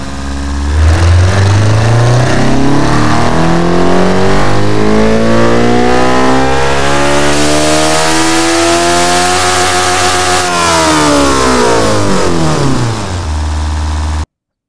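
A car engine in the Automation video game revs through a long power pull, its loud rising tone climbing steadily for several seconds, holding near the top, then falling away, alone with no talk.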